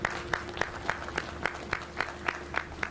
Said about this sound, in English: Give a round of applause for Treasurer Coggs